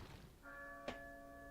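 A single church bell tolls once in Resident Evil 4, its clear struck note ringing out with a long sustained hum and overtones over a quiet backdrop.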